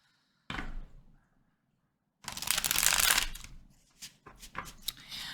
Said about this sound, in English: let me do one quick shuffle